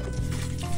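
Water gently trickling and splashing while broccoli seeds are rinsed in a jar, a brief, steady liquid wash that lasts under a second.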